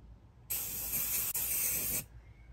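A loud, steady hiss of spray foam insulation spraying into a van's nooks, about one and a half seconds long with a brief break midway, then quiet.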